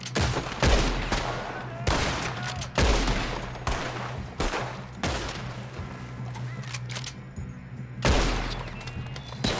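Gunfire in a Red Dead Redemption 2 shootout: a series of loud, booming shots about every second, each with a sharp crack and rolling echo over a steady low game rumble, one voice briefly heard.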